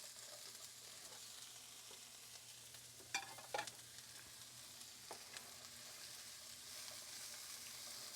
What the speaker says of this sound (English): So I'm going to saute this like 3 minutes.